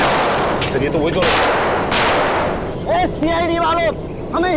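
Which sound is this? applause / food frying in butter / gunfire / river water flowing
gunfire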